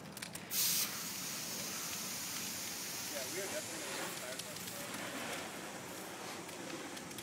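Fire burning a phone booth in an outdoor controlled burn: a steady, close crackling roar with hissing spray-like texture throughout, a brief louder burst near the start, and people talking faintly over it.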